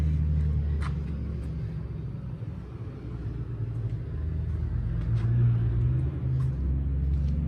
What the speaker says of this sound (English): And here comes a loud truck.